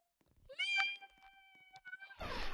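A person imitates a cat's meow during a Roblox obby game, a drawn-out, high, wavering mew standing alone, then a burst of rustling noise at the end.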